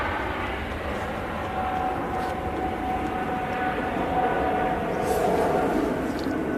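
An EasyJet airliner arrives at Manchester Airport with a steady, broad jet rumble at moderate distance that swells slightly, and a few faint voices can be heard nearby.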